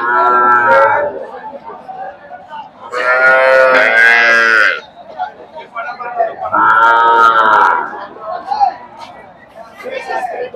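Native calves at a village cattle market give three long, loud moos in turn, close by, separated by pauses filled with quieter market chatter and voices.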